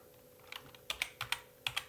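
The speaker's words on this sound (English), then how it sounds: "Oh my gosh, my keyboard." Computer keyboard keys clack in short bursts, about eight crisp clicks at an irregular typing rhythm, close and fairly quiet with no talk.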